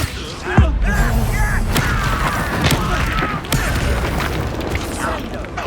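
Fire spell Incendio cast repeatedly in the Hogwarts Legacy game, heard as a loud booming blast with crackling, crashing bursts over steady battle noise, with a voice talking over it.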